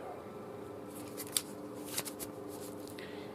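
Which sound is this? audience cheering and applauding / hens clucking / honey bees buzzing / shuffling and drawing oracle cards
shuffling and drawing oracle cards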